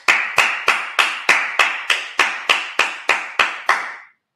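A single pair of hands claps in a steady, evenly spaced rhythm, about a dozen sharp, loud slaps in a row at a Sabbath service, ending abruptly into silence.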